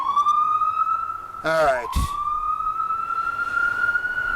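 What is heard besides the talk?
emergency vehicle sirens passing outside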